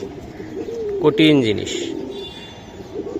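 A pair of khaki military pigeons cooing in a short, soft burst, with a voice speaking over the calls.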